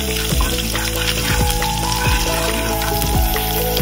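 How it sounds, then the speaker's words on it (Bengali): Cumin seeds and garlic paste fry in hot mustard oil in a wok, a loud continuous sizzle with sharp crackling pops and occasional stirring scrapes, close up and without talk. "আমি কড়াইয়ে সর্ষের তেল দিচ্ছি, দেব জিরে ফোড়ন, এরপরে দেব রসুন বাটা, তারপরে খানিকক্ষণ এটাকে নেড়ে নেব।"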